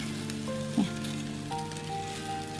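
Pork sam san cuts and pork offal sizzle on a grill, a steady close crackle running throughout with a few sharper pops.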